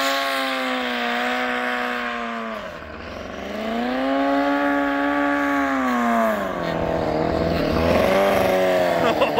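A Braaptor snow vehicle rips away down a snowy strip, its engine whining loud and steady with pitch rising and falling as it revs and pulls off, dipping briefly before surging again.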